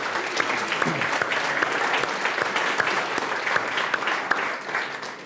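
An event audience at the Runway Innovation Space claps in a dense, even round of applause that holds steady for several seconds before tapering, with no voices over it.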